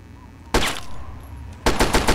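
Two short, loud bursts of rapid automatic fire from a minigun in the video game Fallout 3, separated by about a second of quiet room noise, with no talking.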